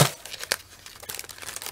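Scissors cut into a cardboard Glossybox beauty subscription package: a sharp snip near the start followed by scattered crinkling and tearing rustles, close and fairly quiet.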